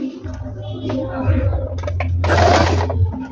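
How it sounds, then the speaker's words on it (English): A Stitchmaster table-top sewing machine runs stitch D, its steady low motor hum and needle clatter continuing for about three seconds, close and fairly loud, with a voice speaking over part of it. "We'll go ahead and try stitch D now,"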